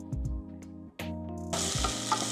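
Onions frying in a pan for a homemade curry, with steady close sizzling and a few scraping stirs, and the frying growing louder and brighter partway through.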